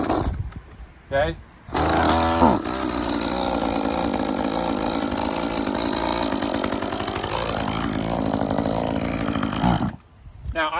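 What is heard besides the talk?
chainsaw being started with chain brake on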